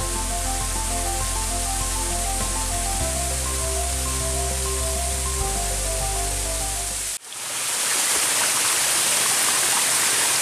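Tretes waterfall at Pagerwojo, Tulungagung, a steady broadband roar of falling water heard alone, loud and continuous, with a sudden shift partway through to a brighter, closer hiss of splashing water.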